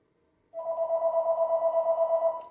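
An electronic telephone ring starts abruptly after a moment of silence and continues as a steady warbling tone, fairly loud and close, with nothing else over it.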